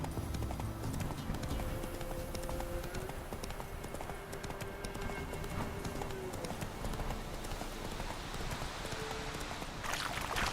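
Roach the horse gallops in The Witcher 3, hooves pounding in a quick, steady rhythm of clip-clop beats over a faint game ambience.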